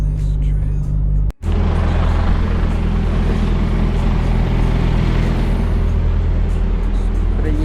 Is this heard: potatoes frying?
no